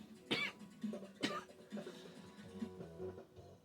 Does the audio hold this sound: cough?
yes